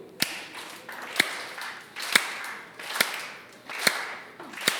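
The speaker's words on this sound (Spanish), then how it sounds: "A ver, aplauda conmigo." A church congregation claps hands together in a slow, steady beat, about one sharp clap per second, fairly close and clear with little talk over it.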